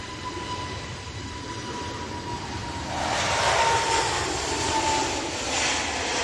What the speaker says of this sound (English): That's Aer Lingus back off to Dublin